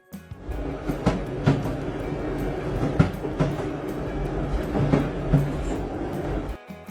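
A train rumbles past continuously with a heavy low roar and rhythmic clacking of wheels over track joints, steady throughout.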